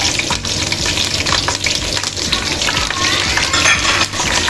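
Curry leaves and pandan leaves crackle and sizzle in hot oil for a quail biryani, a loud, dense, continuous frying roar heard up close without talk.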